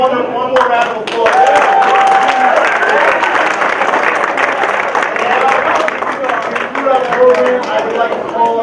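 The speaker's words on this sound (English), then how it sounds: "Let's give her one more round of applause." Sustained audience applause fills a high school auditorium during an African-American History Month event, dense clapping steady for several seconds with voices and cheers mixed in.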